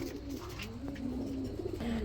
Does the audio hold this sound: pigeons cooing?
yes